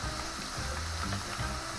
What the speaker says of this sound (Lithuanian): tegul kepa, iš vieno karto neiškepsim. Kepa labai greitai.